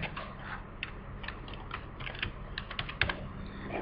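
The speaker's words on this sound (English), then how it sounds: "In the summary, type it as split pin." Someone types on a computer keyboard in CAD software, a quiet run of irregular close key clicks over a faint background hum.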